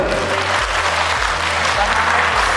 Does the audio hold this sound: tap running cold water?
no